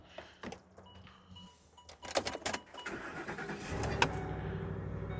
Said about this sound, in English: we're just going to listen to the engine